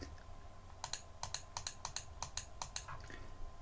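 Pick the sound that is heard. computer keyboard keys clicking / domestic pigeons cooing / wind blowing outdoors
computer keyboard keys clicking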